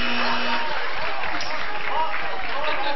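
A studio audience at a game show applauds briefly, dense clapping under a host's speaking voice.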